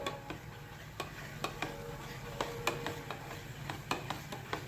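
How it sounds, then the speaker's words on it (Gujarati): Eno is stirred into farali dhokla batter in a bowl: soft, faint rhythmic taps and scrapes of a spoon against the bowl, quiet and close, with a low background hum. "હવે આપણે ઈનોને મિક્સ કરી દઈશું."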